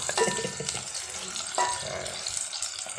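Food is stir-fried in a pan, with steady sizzling and the scrape and clatter of stirring utensils, fairly close and moderately quiet.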